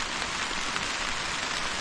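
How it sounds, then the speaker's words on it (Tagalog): Heavy rain pours steadily onto a field planted with eggplant, a dense, even hiss filling the whole stretch with no talking. "basang-basa na po tayo sa ulan."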